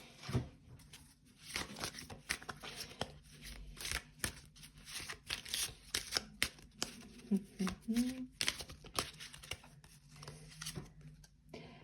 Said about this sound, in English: Let's give it a little shuffle.